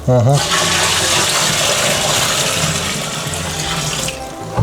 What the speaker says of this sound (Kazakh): көбіге сүт құйылды